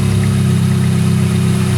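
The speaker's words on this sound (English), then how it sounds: "It almost killed the engine." A high-mileage Ferrari 458 engine idles loud and close with a low, rough, throbbing pulse, nearly stalling from a loose electrical connector.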